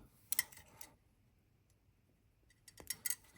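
Wire is trimmed for a Czech glass briolette earring with small jewelry cutters. Two brief clusters of crisp metallic snips and ticks sound close and quiet, with near silence between them.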